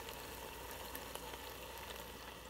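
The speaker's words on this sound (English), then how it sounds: "You hear it sizzling." Hot food just pulled from a microwave sizzles faintly and steadily, a soft continuous crackle heard close by with no talking.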